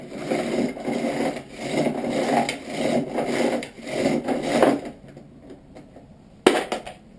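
Close, uneven scraping and grinding bursts come from trimming 40 S&W brass cases, stopping near the end before a single sharp knock.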